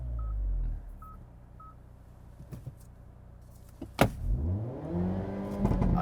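A 2024 Hyundai Elantra N doing a launch-control start in second gear: a steady engine drone at first, then a sharp burst and rising, sweeping revs as the car pulls away, loud and close with short beeps early on.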